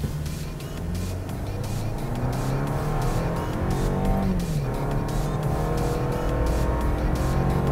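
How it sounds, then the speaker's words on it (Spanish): A Toyota Land Cruiser Prado in sport mode accelerates at full throttle, its engine roaring loudly from inside the cabin and rising in pitch through several gear changes without pause. "lo pongo en drive, verifico que esté en modo sport, voy a fondo"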